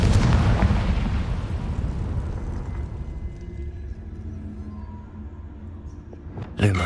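A Confringo fire spell explodes in Hogwarts Legacy, a loud low booming blast with a rumbling tail that slowly fades over several seconds, followed by a sharp new burst at the very end.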